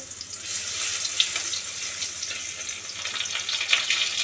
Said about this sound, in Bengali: তেলটা গরম হয়ে গেছে এবার এর মধ্যে আমি দু কোয়া রসুন বাটা দিচ্ছি